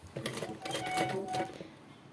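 A sewing machine stitches a frill strip for a blouse back neck, a brief close run of rapid mechanical whirring and needle clatter lasting about two seconds before fading.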